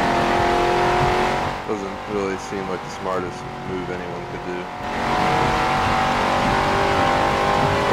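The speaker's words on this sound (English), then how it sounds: "I'm just gonna do over 120 in a muscle car in the rain." A muscle car engine roars steadily at high speed on a rainy, foggy track in Forza Motorsport 7, with someone talking over it through the middle stretch.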